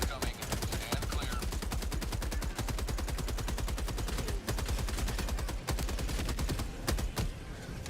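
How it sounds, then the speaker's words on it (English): Sustained orbital barrage in a video game, a dense relentless stream of loud explosions and blasts hammering continuously with almost no pause, heavy and close throughout. "Orbital barrage incoming. Stand clear."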